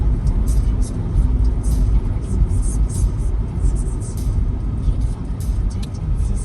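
Steady low road rumble of a car being driven, continuous engine and tire noise from inside the cabin with no clear breaks.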